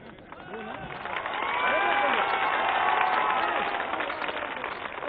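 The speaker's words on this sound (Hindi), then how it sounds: "अब नौजवानों ने ताली बजाई है" A large crowd of young people at a political rally in Gorakhpur, Uttar Pradesh, claps and cheers in a swelling wash of noise with excited shouts, building and then holding steady.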